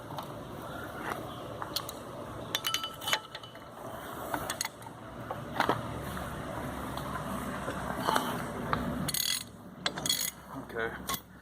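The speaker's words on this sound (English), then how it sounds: "Now I'm going to take the axle nut off." A ratchet wrench loosens the axle nut on a Chevrolet S10 4x4, producing repeated close mechanical clicking and ratcheting bursts over a steady background hum.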